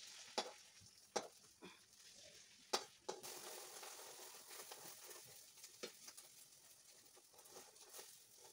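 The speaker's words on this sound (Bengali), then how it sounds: "চলো ডিমটা ভাজি।" An egg fries in a pan with a steady low sizzle, broken by several sharp spattering pops and clicks of a utensil near the start, then settling into quieter crackling.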